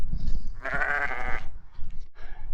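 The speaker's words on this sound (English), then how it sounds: "We've got some sheep with us." A sheep bleats once on Dartmoor, a wavering nasal cry close by, with low rumbling wind or movement around it on the open moor.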